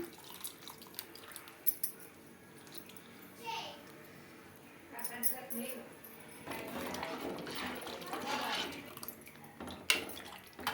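Tamarind juice is poured into a pot of sambar. Soft splashing and dripping come in bursts, loudest in the later half, with voices speaking nearby, including a child.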